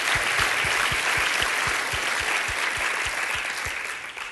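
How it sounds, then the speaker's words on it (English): Steady applause from a ceremony audience as a lifetime achievement award is presented at a closing ceremony, sustained clapping for about four seconds that eases slightly at the end. "and so I call your applause for Dr. Ernst Fazan."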